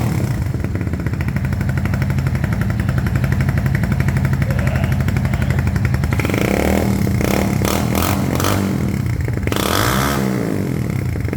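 Superstar 200cc motorcycle with an aftermarket exhaust idling loud and close, a steady rumbling thump, then blipped throttle revs with crackling pops toward the end.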